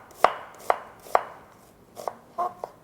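A knife slices shallots thinly on a cutting board, three evenly spaced sharp taps followed by a few quicker, softer cuts.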